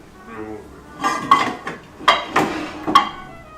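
A spoon clinks and scrapes around a pot of thick beef bourguignon in a few quick strokes. The knocks are close and distinct, with no one speaking.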